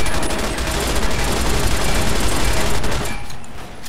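Sustained, rapid gunfire at a sentry bot near Helios One in Fallout New Vegas: a dense, loud, continuous stream of shots that cuts off abruptly near the end.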